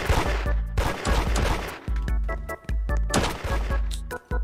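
Gunfire in the Roblox game Da Hood: rapid strings of loud, punchy shots firing in quick bursts with short pauses between, close and dominant throughout.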